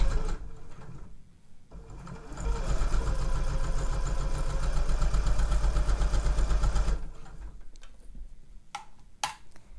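A domestic sewing machine stitches a seam along a zip tote bag, running in a steady, fast mechanical chatter for several seconds after a brief start, then stopping with a few sharp clicks and knocks.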